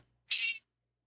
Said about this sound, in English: You heard her meow?